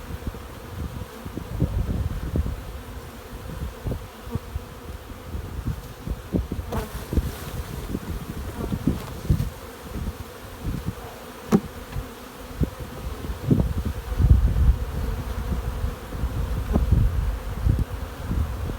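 Honey bees buzz in a dense, continuous swarm while a hive is being split, with soft rustling and knocks from frames being handled nearby.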